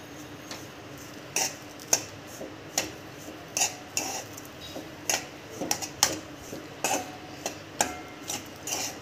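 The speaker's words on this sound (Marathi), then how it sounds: "मिक्स करून घेऊ." Kachori batter with water, sugar and coriander being mixed in a bowl, a steady series of soft clinks and scrapes from a utensil, close and fairly quiet, with no talking.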